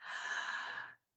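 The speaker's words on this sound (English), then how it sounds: "On the count of 3, we're going to start the breath work. 1, 2, 3. Inhaling" A single steady inhale during a guided breath work exercise: a close, airy breath held evenly for about a second before it cuts off, with no talking over it.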